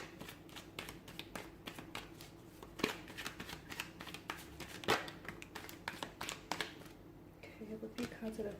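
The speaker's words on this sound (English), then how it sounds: "give the cards a shuffle" Tarot cards shuffled by hand, a quiet, continuous run of soft riffling and slapping with a few sharper snaps, close up and faint against a still room.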